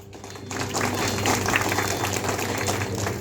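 Steady applause from a crowd welcoming a guest at an outdoor village council event in India, a dense, continuous clatter of hands that swells after a brief quiet start and carries on evenly throughout.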